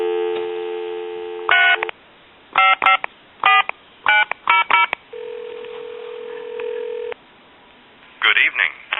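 Touch-tone keys on a telephone beep in quick uneven bursts of dialing, with a steady dial tone in between, all heard clearly through the phone line.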